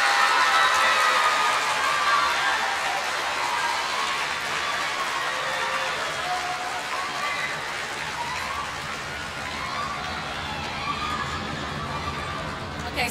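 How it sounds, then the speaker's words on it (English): Steady applause from an audience at a school awards ceremony honoring students, a dense, even wash of clapping sustained at moderate loudness for the whole stretch. "Let's give these students a round of applause"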